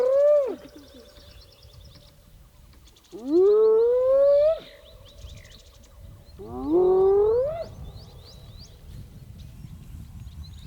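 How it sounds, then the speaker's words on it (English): Hyenas call on an outdoor safari game drive, giving three loud, rising whooping calls spaced a few seconds apart over faint background ambience, with no talking. "Listen to the hyenas."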